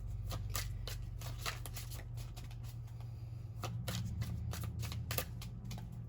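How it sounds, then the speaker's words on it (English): A deck of cards is riffled and shuffled several times for a tarot reading, with crisp rapid flutters close by and a short pause midway. "Let me just shuffle up the deck really quick"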